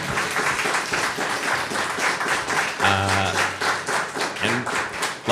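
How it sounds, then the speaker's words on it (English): Audience applause and clapping after a film screening Q&A, steady and fairly loud throughout, with a voice talking over the crowd partway through. "Big round of applause again for Stan and"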